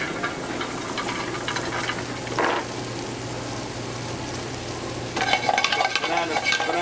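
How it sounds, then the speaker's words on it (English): Walnuts toasting in a pan for a bananas Foster bread pudding, a steady close sizzle with stirring scrapes throughout and a brighter burst of frying and clatter near the end. "I'm gonna toast off the walnuts first."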